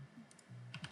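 A handful of light, sparse keystrokes on a computer keyboard as a short command is typed into Rhino software, faint and close, with no speech.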